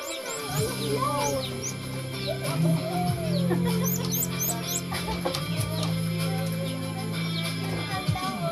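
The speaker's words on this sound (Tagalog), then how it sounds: "Yung malit na ibon." A small bird chirps in short, high calls that repeat over a steady low hum and chicken-like clucking nearby, with faint voices in the background.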